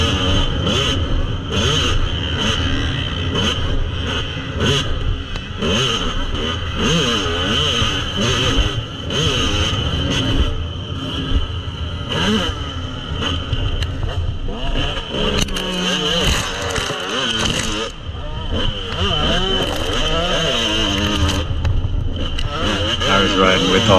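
Motocross dirt bikes riding a practice session at Club MX with young riders in the AB class; a continuous loud engine drone rises and falls with revving, layered and unbroken for the whole stretch.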